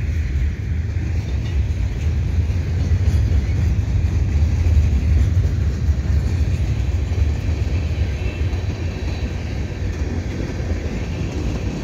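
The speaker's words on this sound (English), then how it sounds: "This train may not actually have a DPU." A CN freight train rolls past at Dorval West signals, a steady loud rumble of wheels and railcars that holds unbroken throughout with no voices.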